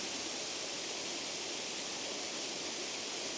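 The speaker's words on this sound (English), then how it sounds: "You can see the water spraying towards me." A waterfall at Alva Glen, Scotland, spraying water in bright sunshine, heard as a loud, steady, dense rush of falling water filling the air without a break.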